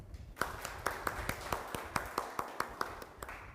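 Audience at a workshop clapping in a loose, uneven series of sharp claps, about a dozen distinct hits over a few seconds, fairly close and moderately loud with a faint room murmur beneath.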